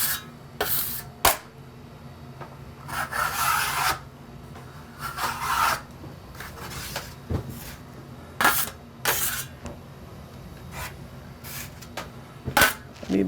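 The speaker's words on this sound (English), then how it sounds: "I'd have to clean this trowel. Some dried up stuff getting on there." A drywall trowel gets scraped clean of dried joint compound in a series of sharp, rasping strokes, separated by brief pauses, close and moderately loud with no talking.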